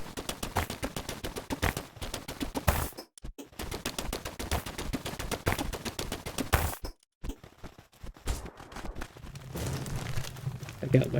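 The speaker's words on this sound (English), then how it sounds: "let me just try out my new metal pickaxe" Repeated metal pickaxe strikes in Palworld, sharp percussive impacts in a steady rhythm with brief pauses, loud and close, while a voice talks over them.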